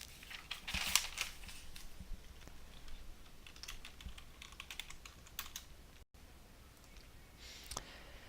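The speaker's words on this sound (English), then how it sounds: "I have to type my password in here" Fingers tap out a password on a computer keyboard, giving quiet, close, irregular clicks in short bursts with brief pauses between them.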